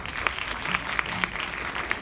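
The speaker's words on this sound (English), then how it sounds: "Let's give a round of applause" A round of applause from the audience at a women-in-STEM panel discussion in a cinema: a short, soft patter of clapping with a few sharper individual claps standing out.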